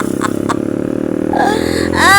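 A Rusi motorcycle rides fast along a road, its engine droning steadily and close with rattling clatter, rising in pitch near the end as it speeds up.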